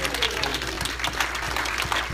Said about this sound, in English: Let's give the Lord a clap.